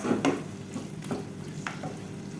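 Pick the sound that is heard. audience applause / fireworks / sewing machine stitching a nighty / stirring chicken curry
stirring chicken curry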